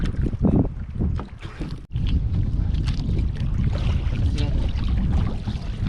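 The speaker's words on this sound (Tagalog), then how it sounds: "dito ay malakas na masyado yung hangin" Strong sea wind buffets the microphone in loud, gusty roaring, with water and boat noise mixed underneath, out on the water while handline fishing in Romblon, Philippines.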